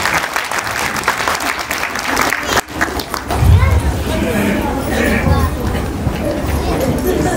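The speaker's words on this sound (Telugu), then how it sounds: "ఒక మాట చప్పట్లు కొడితే కానీ మేము చేయలేం" An audience at a Vinayaka Chavithi stage event bursts into loud, sustained applause that swells midway, with voices and crowd chatter mixed in throughout.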